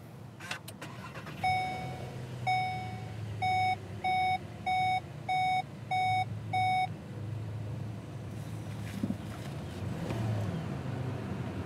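A 2019 Volkswagen Arteon SEL Premium R-Line starts by push button: a steady series of clear electronic chime beeps plays inside the cabin, followed by a low rumble as the engine comes to life.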